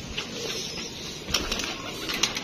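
Pigeons in a loft give soft, low coos alongside bursts of wing flapping, with a couple of louder flutters standing out against a steady close background.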